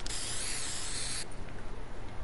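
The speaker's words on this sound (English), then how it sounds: "Let's spray paint over this." Spray paint hissing over a sign in the video game Fortnite, a loud steady aerosol spray running about a second and a quarter before cutting off to quiet background.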